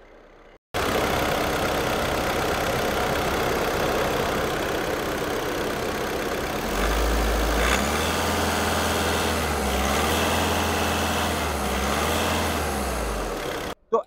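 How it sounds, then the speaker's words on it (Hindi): A 2017 Volkswagen Ameo diesel engine idles steadily close by, a low even rumble with a deeper throb swelling in partway through, then cutting off at the end. "इंजन की साउंड एक बार आपको सुनाता हूँ"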